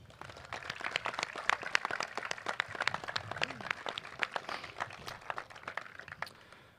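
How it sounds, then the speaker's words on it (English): An audience applauds awardees at a commissioning and commencement ceremony, with scattered, fairly faint claps that rise and thin out over several seconds. "please give another round of applause to all of the awardees"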